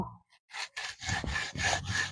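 Rough, rasping strokes of a hand saw cutting through bamboo, several back-and-forth pulls in a steady rhythm, close and fairly loud.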